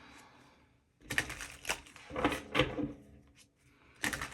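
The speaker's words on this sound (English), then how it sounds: "Let's give it a really good shuffle here." A tarot card deck, the original Arthur Edward Waite version, is shuffled in close, quiet bursts of riffling and papery slaps, starting after a second of near silence with a short pause before a final burst.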